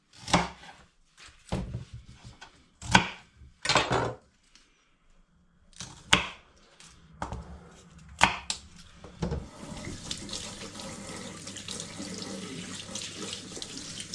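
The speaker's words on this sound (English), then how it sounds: "So I've got myself 5 nice big sticks of rhubarb to chop down and add into the mix." Five big sticks of rhubarb chopped with a knife on a board, a series of sharp, uneven chops with pauses between, close and clear, followed by a running tap near the end.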